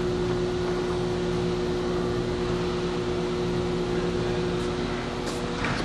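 A plastic granulator with an end feed conveyor, driven by a 20 horsepower three-phase electric motor, runs alongside its 3 horsepower blower, producing a steady, loud machine hum and whooshing drone that holds constant throughout.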